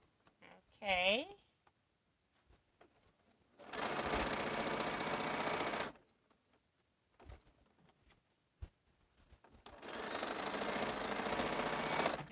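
Bernina sewing machine stitching quilt pieces: two runs of steady, fast mechanical whirring of about two seconds each, close and moderate, separated by quiet gaps with small clicks and handling noises.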